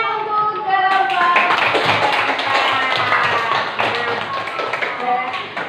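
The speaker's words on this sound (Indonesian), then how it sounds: "Tepuk tangan untuk kelompok" Classroom students clapping together for a student group during a science lesson, a dense burst of hand claps with voices mixed in, fairly close and loud throughout.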